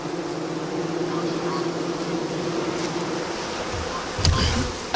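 Honey bees hum steadily around a thriving hive full of capped honey. The buzz is close and continuous, with a brief handling knock near the end.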